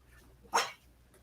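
A single short dog bark, sharp and moderately close, stands out briefly against a quiet background.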